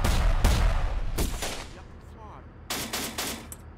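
Loud bursts of automatic gunfire crack out in the war strategy game Syrian Warfare, a few volleys separated by brief lulls, with a voice speaking faintly between the shots.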